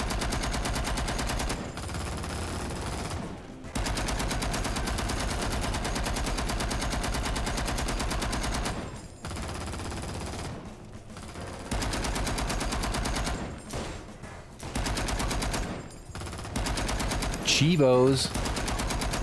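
Automatic and single gunshots from the first-person shooter XIII ring out repeatedly in loud bursts, with short gaps between volleys and a game soundtrack underneath; someone speaks briefly over the shooting.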